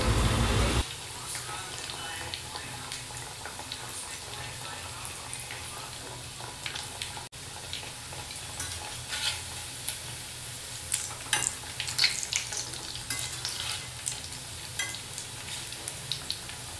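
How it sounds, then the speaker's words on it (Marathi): Kothimbir vadi, coriander fritters, shallow-frying in oil over a medium flame, a steady even sizzle with light crackles and occasional pops, after a brief louder clatter at the start. "मीडियम फ्लेमवर दोन्ही बाजूकडून वडी फ्राय"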